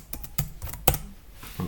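Keystrokes tap out a command in bursts on a computer keyboard, sharp and close, with uneven spacing and no talking.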